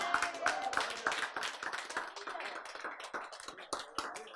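An audience claps hands in a lecture hall, a dense run of brisk claps at moderate loudness that thins slightly toward the end, heard without talk over it.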